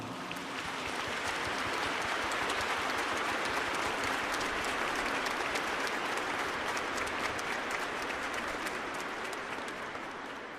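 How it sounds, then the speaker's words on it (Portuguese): Sustained, dense applause from a church congregation during a Good Friday Passion celebration at a national sanctuary, steady and full for the whole stretch without any talk. "uma calorosa salva de palmas"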